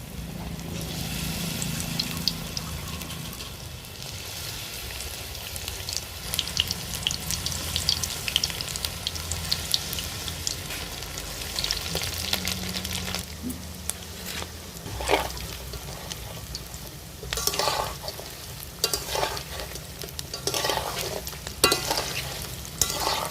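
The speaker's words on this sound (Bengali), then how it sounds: "সবগুলোকে এরকম করে ভেজে নেব।" Continuous sizzle of mushroom pakoras deep-frying in hot oil in a wok, with occasional scraping and stirring clinks and no voices.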